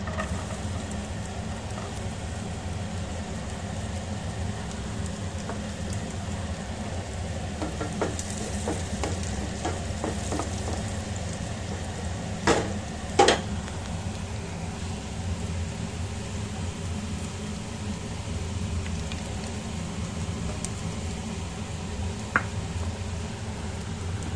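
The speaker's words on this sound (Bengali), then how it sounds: "এবার নারকেলটা ছেড়ে দিই।" Grated coconut fries in a pan for ghugni, giving a continuous close sizzle with occasional stirring scrapes and a few sharp clicks of a spatula, with no talking.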